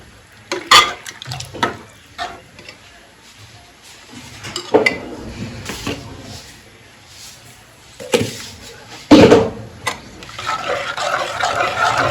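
A spoon scrapes and knocks around inside a pot of millet porridge, irregular stirring strokes with occasional clinks over a soft bubbling background.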